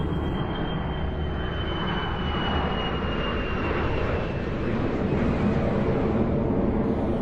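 Airbus A380 wide-body airliner on test flights overhead nearby, a loud continuous engine roar with a steady high whine that fills the whole stretch without pause, no voices.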